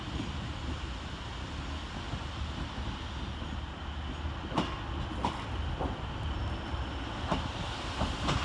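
A Northern class 150 diesel unit, 150-128, terminating off an Ormskirk service at Preston station, rolls in with a steady low rumble, wind noise and a few sharp clicks and clanks from the wheels and rail joints.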